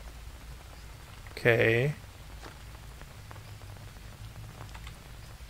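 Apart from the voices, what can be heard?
rain falling in the video game Green Hell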